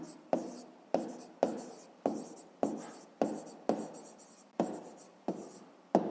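A pen writing on paper during a fifth-grade maths exercise: about a dozen sharp stroke onsets, each fading into a short scratching trail, evenly spaced and close up, with no voices.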